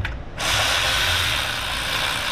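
Ratchet clicking steadily while tightening spark plugs on a dual-spark HEMI engine, crushing the plugs' crush washers; a short pause, then continuous close, loud ratcheting to the end.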